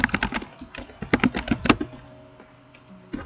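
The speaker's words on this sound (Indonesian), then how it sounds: "Kita ketik git status lagi." A computer keyboard typed on to enter a git status command in a Git Bash terminal: a quick run of close, crisp key clicks in bursts, then a pause and one last keystroke, with no voice.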